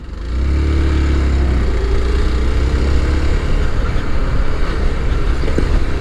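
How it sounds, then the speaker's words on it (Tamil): A Hero Xpulse 200 BS6 2020 motorcycle rides over a rough road, producing a loud, steady, close engine rumble with continuous road and wind noise. "கொஞ்சம் நான் டஃப்பான ரோட்டில் ஓட்டி பார்க்குறேன்"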